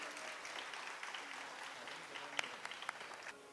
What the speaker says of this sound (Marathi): आपण टाळ्या वाजवून एकदा या सर्वांचं अभिनंदन करूया.